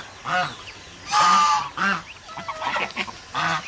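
Several ducks gathered in a cramped patch of water on a hot day give loud, nasal quacking calls in repeated bursts, close by, with short pauses between calls.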